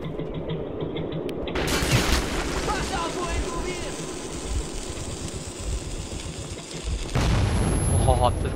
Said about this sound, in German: Oh, habt ihr das gesehen? Diese Scheißgranate.